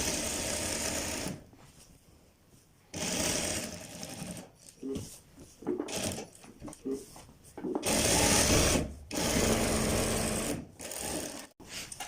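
A sewing machine stitches the seam of a men's high-neck kurta in bursts of steady whirring, pausing between runs, loud and close with no voices over it.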